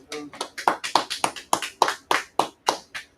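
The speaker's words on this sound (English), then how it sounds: "All right, clap it up." A small audience claps in a sparse, uneven rhythm, about a dozen distinct sharp claps over a few seconds, close and clear with no talk.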